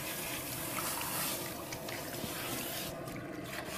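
Cool water running through hair to rinse out conditioner at a spa treatment, a steady close splashing and trickling flow, alone without talk.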